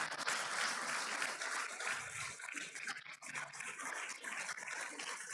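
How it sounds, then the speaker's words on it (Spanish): Faint applause from a distant audience, a steady patter of clapping with no talk. "Dale un aplauso a Jesús."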